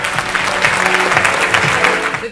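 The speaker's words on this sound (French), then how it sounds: "vous pouvez de nouveau applaudir" Audience applause fills a French film festival closing award ceremony at Gérardmer, a dense, steady clapping from a large crowd that stays loud throughout and fades slightly at the end.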